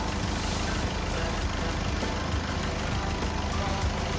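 A car's engine idles steadily after its battery has been disconnected with the motor running, a continuous low rumble that stays even and unbroken throughout.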